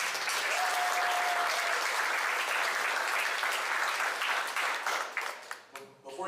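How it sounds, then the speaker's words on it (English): A crowd at a sports banquet applauds steadily with dense, sustained clapping that fades toward the end, and voices can be heard faintly underneath. "let's give these guys a round of applause"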